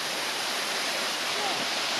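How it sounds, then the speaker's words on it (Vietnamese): The tall Thung waterfall in Tân Lạc pours down in a continuous broadband roar of falling water, loud and steady throughout with no pauses. "Thác rất là cao luôn."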